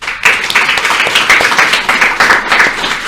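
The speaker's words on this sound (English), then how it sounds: "Please join me in giving our speakers and all our online participants a warm round of applause" A ceremony audience applauds at the morning launch of the ReUSE REVAMP Initiative. The clapping is dense and sustained, holding a steady, even level from start to finish with no voices over it.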